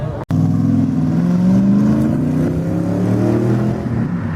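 A car accelerates hard from a standstill on Grand street cruising scene, engine note climbing steadily in pitch through the gears, loud and close after a brief cut at the start, with no talk.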